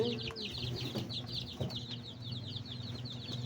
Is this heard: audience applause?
no